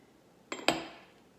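Almonds sprinkled onto a no-cook vegan keto breakfast dish land in two quick, light clinking bursts close by, a brief scatter with a short fading tail and no talking.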